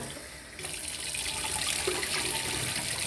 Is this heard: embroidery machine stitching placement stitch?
no